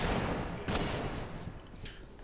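Shotgun gunfire in the video game Fallout 4 with a modded weapon, two dense blasts with a rumbling spread over a constant noisy background.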